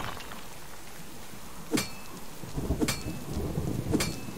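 Rain pours steadily in the video game Subsistence while three sharp thunder cracks strike at roughly one-second intervals, each followed by a rumbling tail, with no voices.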